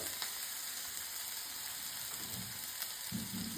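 Protein snack frying in a pan with a little salt, a steady close sizzle with occasional stirring scrapes near the end, and no voices.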